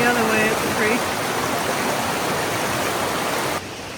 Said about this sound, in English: Here's a creek on the trail.